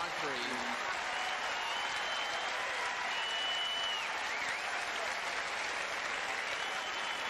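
Steady, sustained applause from a tennis crowd at the 1996 US Open, a first-round match between Edberg and Krajicek, filling the whole stretch as a dense, even wash of clapping.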